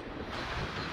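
Gusty wind buffets the microphone without letup at an outdoor showjumping competition in Coleraine, a dense, steady roar with no voices over it.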